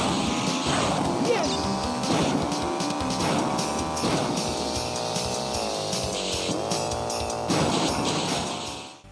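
Racing car in a 90s retro video game, a constant synthesized engine drone that rises and dips in pitch through drifts and turns. Crashing effects punctuate it, and it stays loud until a sudden fade at the end.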